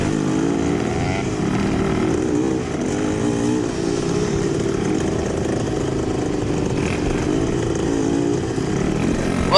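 Vintage motorcycles race on a hill climb course at Twilight Farms, their engines a continuous, loud, rough drone with no break, the revving layered as several bikes run together.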